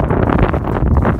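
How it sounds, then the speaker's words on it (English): Gusty wind buffets a microphone outdoors beside a Honda Civic Si being worked on, a loud, rumbling, uneven rush of low noise with choppy bursts throughout the short moment, no talk. "y'all hear this wind, son? This thing is crazy."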